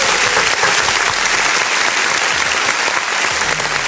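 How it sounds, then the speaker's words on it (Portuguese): Round of applause played on a Brazilian talk-show podcast episode, a loud, dense wash of many hands clapping continuously throughout. "Salva de palmas aí!"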